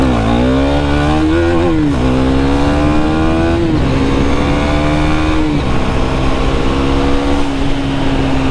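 A KTM Duke 390 motorcycle cruising at about 60 mph, its engine droning loud and steady close by, the pitch dipping at several gear shifts while wind noise rushes underneath.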